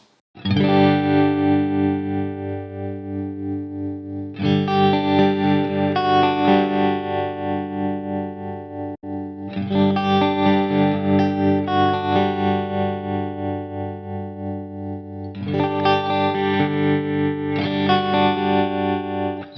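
An electric guitar runs through a Line 6 Helix tremolo effect, sustained distorted chords rung out in several long phrases, each swelling with a pulsing, wavering volume.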